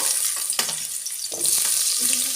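Long-cut potato strips frying in hot oil in a home kitchen, a close bright hiss with scattered crackles and a few soft clatters of handling, no talking.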